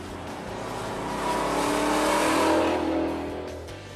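A 1970 Chevelle with an LS7 V8 revs up loud and close, the engine note swelling steadily to a sustained roar mid-clip and easing back off, with no voices over it.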